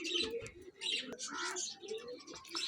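Flying pigeons kept by a pigeon club coo softly and repeatedly, low throaty calls mixed with faint chirps and rustling, fairly quiet and close.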